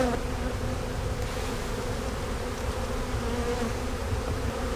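Honey bees swarm around a broken hive, a dense, steady buzzing hum that fills the space close by without letup, and no voices.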